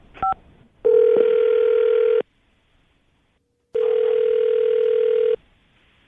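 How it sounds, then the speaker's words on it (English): A landline phone call begins with a brief keypad beep, then a steady dial-style ringback tone sounding twice in long, loud, evenly spaced bursts with silence between, before a radio show host reaches a caller. "We're going to call him right now, see if we can get him on the phone"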